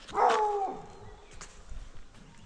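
A dog barks once, sharp and fairly close, beside a cycling trail through the Kampinos forest, followed by quieter rustling and faint background noise.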